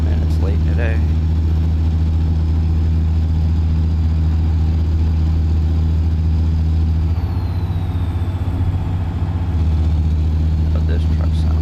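Kenworth K100 truck engine idling in a trucking video game, a steady low diesel rumble that runs loud and continuous throughout, with a faint higher whine at times.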